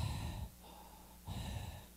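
A voice imitates loud, heavy mouth breathing, two rough rasping breaths with a brief pause between them, close and fairly quiet, like a snorer's congested breath.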